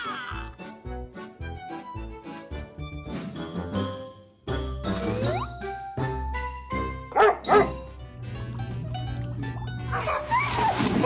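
A protective dog barks repeatedly in a series of loud, close woofs and yips, then keeps barking more sporadically over background sounds.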